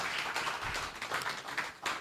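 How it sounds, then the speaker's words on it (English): Continuous clapping from a conference audience as the chamber president makes his way to the podium at a power sector event, a steady dense wash of claps with a few sharper peaks throughout. "Please, let's clap for my president until he comes to the podium."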